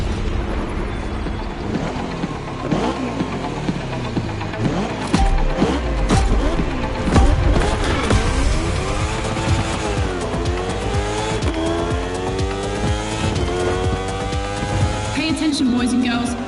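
Racing engines in The Crew Motorfest, a Red Bull Speed Clash time-attack event, roaring loudly with rising and falling revs and gear shifts, tire squeal and skids mixed in across a sustained, dense stretch with music and speech underneath.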